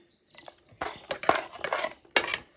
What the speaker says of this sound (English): Lastly, I added some mint pudina chutney. I'll stir it well.